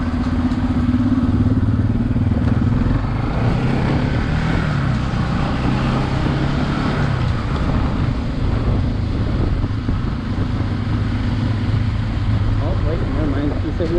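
A motorcycle ridden one-handed over bumpy concrete while following another rider: a steady, loud engine drone with rushing wind buffeting the microphone throughout, never letting up.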